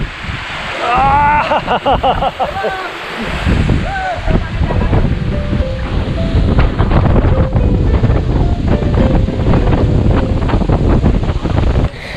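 Strong wind gusting along a sea cliff edge near Kohoj Fort in Palghar, a loud, steady roar that buffets the microphone throughout, with surf below and a voice talking in the first few seconds.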